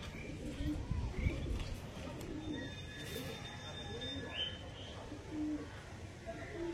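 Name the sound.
Kalanka pigeons cooing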